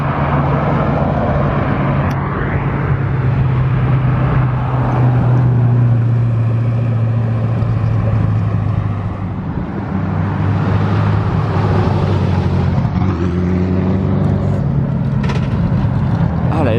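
Hypercars, including a Bugatti Chiron, Koenigsegg and Ferrari F40 LM, drive hard along a road by an airport, producing a loud, continuous engine roar and rumble that swells as cars pass close by.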